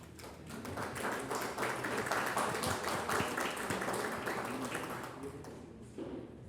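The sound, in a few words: audience applause for the Mundana organizers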